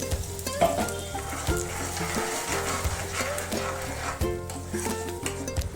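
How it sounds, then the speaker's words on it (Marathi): A puréed paneer curry base sautés in ghee, sizzling steadily while a spatula stirs and scrapes the pan in repeated strokes, with a faint low hum underneath and no speech. "आता हे व्यवस्थित परतून घ्यायचं."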